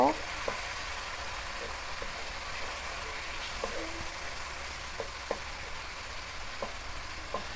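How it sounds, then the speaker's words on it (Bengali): Prawns cook with spice paste in a pan, giving a soft, even sizzle under regular light stirring taps and scrapes. "চিংড়ি মাছটা দিয়ে মশলার সাথে আরও কিছুক্ষণ কষিয়ে নিব"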